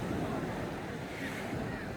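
Ocean waves wash into a stone salt pan beside a breakwater on the Korean coast, a steady, fairly faint broadband surf wash with light wind noise throughout.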